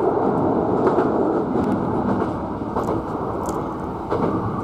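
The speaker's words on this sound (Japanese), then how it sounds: "列車は中津駅付近を通過します" A Hankyu Kyoto Line limited express train runs near Nakatsu Station, heard as a steady, close rumble with faint rail clicks scattered through it.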